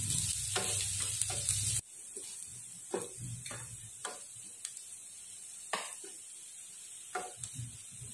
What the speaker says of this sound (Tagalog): Igisa nating mabuti guys hanggang sa ito ay maging golden brown.